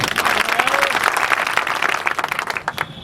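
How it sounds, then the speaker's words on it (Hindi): A crowd applauds steadily at a gathering marking the end of a sanitation workers' strike in Shikohabad, India, many hands clapping at once in a dense, loud burst that begins to thin out near the end. "एक बार ताली बजा।"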